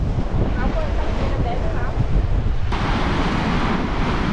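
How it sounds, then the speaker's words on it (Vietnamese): Strong, rough sea waves surge onto the beach at Ba Tri, a constant heavy roar of surf mixed with buffeting wind on the microphone and no pause. "Biển bên này động, biển động, sóng mạnh quá trời luôn."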